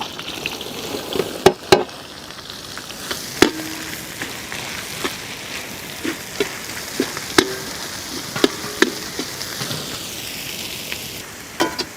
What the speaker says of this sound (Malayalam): ചെറിയ ഉള്ളി ഒന്ന് വാടി വരട്ടെ